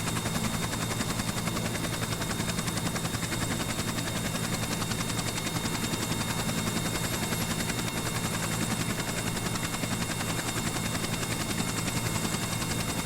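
Steady, unbroken engine-and-rotor drone of a helicopter with an oversized tail rotor in Kerbal Space Program, flying through mild turbulence, holding an even loudness throughout with no voices.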